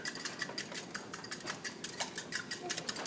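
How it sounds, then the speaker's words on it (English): A whisk quickly beats an egg in a small custard cup, making fast, light clicking and tapping strokes in a steady rhythm, close by and fairly quiet. "then we're going to beat it real quickly with a whisk"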